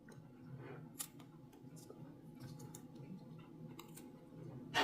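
Scissors snip through the ends of crochet yarn on both sides of a plastic canvas bag, a couple of sharp, close clicks against a faint room hum.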